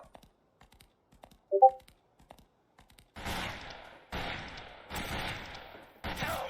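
Gunfire in the Fistful of Frags cowboy video game: after a quiet stretch with a few small chirps, loud shots crack out about once a second, each with a short echoing tail.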